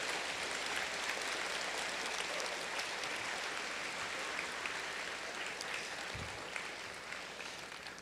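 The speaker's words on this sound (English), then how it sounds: "I ask that you give them a well-deserved round of applause" Audience applause at a high school senior awards ceremony, steady crowd clapping heard from a distance and sustained for several seconds, slowly tapering toward the end.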